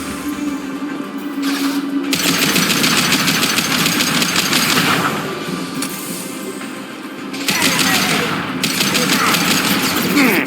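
Sustained bursts of gunfire and combat noise from a Mass Effect 2 Legendary Edition battle, dense and loud across the whole stretch, with brief dips and a speaking voice mixed into the game audio.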